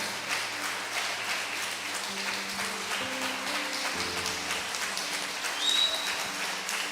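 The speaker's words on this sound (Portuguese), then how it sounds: "Vamos aplaudir a palavra de Deus? Bem forte." A church congregation applauds steadily and strongly throughout, a dense wash of clapping at moderate distance with organ-like tones sustained underneath.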